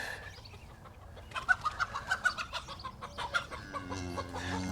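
Chickens on a farm cluck in a quick run of about a dozen short, close calls. A low, steady farmyard background sits underneath and no one speaks.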